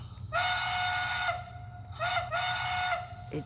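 A model train's TCS WOWsound decoder sounds a steam whistle in two long, bright chime blasts, the second broken into a quick pair, over a low steady hum.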